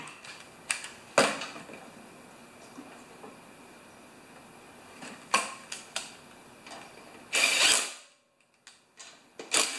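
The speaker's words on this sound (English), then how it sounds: "we might as well loosen that coil off even more now" Irregular metallic clicks and rattles from loosening the ignition coil beside the flywheel of a Honda HRX217 lawn mower, close by, with a louder burst of rasping near the end.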